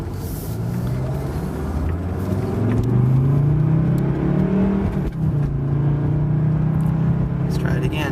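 A 1987 Mercedes-Benz 190D 2.5 Turbo diesel accelerates from low speed, its engine drone rising steadily in pitch under constant road and cabin rumble, heard from inside the car.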